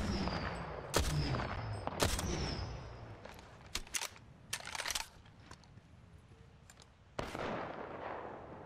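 Gunfire from a weapon in the video game Apex Legends: several sharp, loud shots scattered irregularly, some single and some in quick clusters, over a constant background rumble of game ambience.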